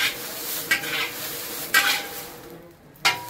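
Dry chillies, masala and poppy seeds roasting in a pan at a spice shop, with a low rustling sizzle broken by three or four sharp metallic stirring scrapes at irregular intervals.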